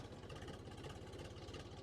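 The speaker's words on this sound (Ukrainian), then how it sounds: "Заведемо тракторець, три циліндри нормально працює." A three-cylinder tractor engine idles steadily up close, its low, even pulsing throb continuous and loud with no talk over it.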